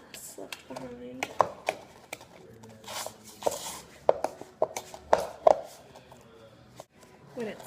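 Apple pie crumble topping is worked with butter in a bowl, giving irregular soft scraping, tapping and crumbly squishing strokes at moderate level, close by, with a voice speaking briefly between them.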